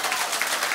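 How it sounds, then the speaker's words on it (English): Audience applause at a live comedy show in Toronto, a brief burst of dense clapping from a crowd, steady and fairly loud throughout. "Clap if you lived in the city when that happened."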